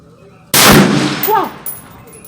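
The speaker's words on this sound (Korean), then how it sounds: "한 발 더 쏴 볼 건데" A single sharp gunshot from an American Tactical Omni Hybrid 5.56 AR pistol at a 25-yard range, loud and abrupt, with a brief echoing tail that fades over about a second.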